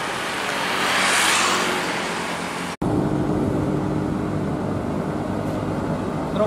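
Sugarcane truck passing on a road, a loud broadband engine and tire roar that swells, breaks off abruptly partway through, then continues as steady traffic rumble with no voices.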